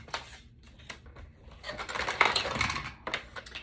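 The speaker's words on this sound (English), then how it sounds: "cut that with my trimmer" A paper trimmer with a straight blade cuts scrapbook paper in a few dry clicking, scraping strokes, close and moderately loud, with small taps and handling noises between cuts.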